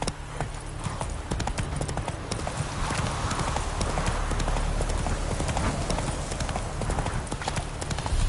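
Steady clip-clop of Roach the horse's hooves in The Witcher 3, a brisk continuous trot loud and close over a low wind-like ambience.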